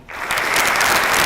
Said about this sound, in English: please join me in providing a resounding round of applause